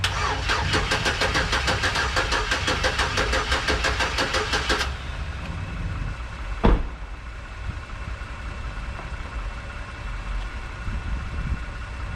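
A GMC Sierra 1500 pickup with a blown engine cranks on the starter in a steady rhythmic churn for about five seconds without catching, then stops, followed by a single sharp click and quiet background.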